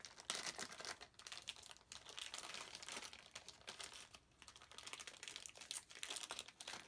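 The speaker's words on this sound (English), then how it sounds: "this is the charger in here, in a nice Ziploc bag" A Ziploc plastic bag holding the battery charger for a 2003 G.I. Joe MUV R/C truck crinkles steadily and close up, with continuous rustling and sharp crackles throughout and no talking.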